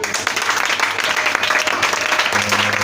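Church congregation applauding and cheering during a worship service, a dense continuous wash of clapping with some voices mixed in, steady and fairly loud throughout.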